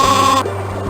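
Sheep bleating in the video game Spy Fox 2, a short, loud, wavering cartoonish bleat lasting under half a second before it stops abruptly.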